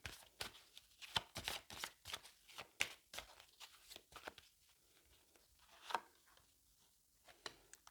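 Tarot cards are shuffled by hand before a reading, making a run of close, crisp riffling bursts and soft slaps in an uneven rhythm. The bursts grow sparser and quieter toward the end.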